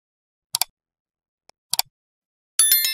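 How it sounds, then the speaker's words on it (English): Scissors snip through leftover yarn after a crocheted granny square is finished: two quick paired clicks, a faint tick, another double snip, then a brighter rustle at the end, close and dry with no talk. "cut the extra yarn out"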